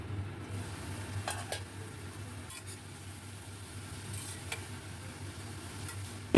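Pumpkin leaves and prawns stirred in a hot pan: a soft continuous sizzle under a few scraping strokes of the spoon, heard up close with a low background hum.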